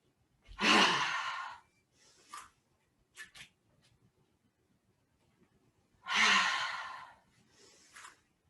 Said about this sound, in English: I'm gonna just take one more inhale, exhale, pause at the top.